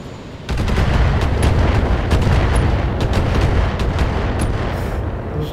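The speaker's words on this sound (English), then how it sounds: "Those turrets are really going to tear up our lights." Loud sustained turret gunfire in the BattleTech game, a dense continuous barrage of heavy shots and impacts that starts abruptly and rolls on without a break, with no talking.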